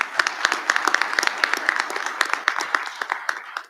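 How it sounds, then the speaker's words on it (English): Audience applause at a Black History Month convocation and rededication ceremony at Morgan State University, a steady round of many hands clapping with sharp individual claps standing out near the front, sustained throughout with a faint voice mixed in. "And keep that applause going."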